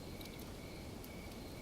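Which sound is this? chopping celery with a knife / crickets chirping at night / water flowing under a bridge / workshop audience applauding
crickets chirping at night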